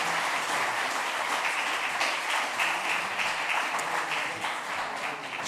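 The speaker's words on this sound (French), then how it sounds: "On peut applaudir David Gurley" A conference audience gives sustained applause after a talk on artificial intelligence and energy, steady, even clapping from many hands heard at a moderate distance for several seconds.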